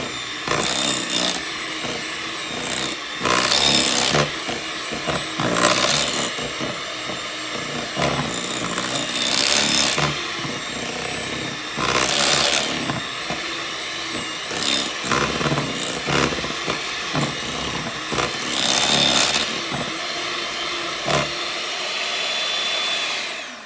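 A hand-held electric mixer beats cheesecake filling in a bowl, a steady loud whirring that rises and falls in repeated surges as the beaters work through the creamy mixture.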